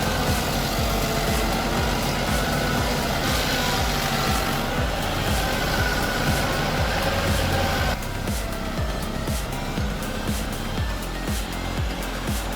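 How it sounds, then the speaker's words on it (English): Go 4 Feet SG 75 stump grinder with a 75 horsepower engine chewing through a large stump, a steady loud engine roar with dense grinding noise throughout, easing slightly toward the end. "Witness the impressive Go 4 Feet SG 75 stump grinder. With a 75 horsepower engine, it devours large stumps in the blink of an eye."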